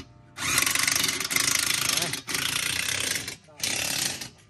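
Wrench or ratchet working a bolt on a New Holland tractor while fitting a big front tyre, a loud continuous mechanical grinding rattle in long bursts with brief pauses between them.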